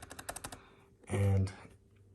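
Keys clacking on an HP laptop keyboard with an Intel chip, a quick run of light taps at the start and again near the end, around a louder burst in the middle.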